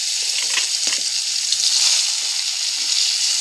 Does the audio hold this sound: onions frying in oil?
yes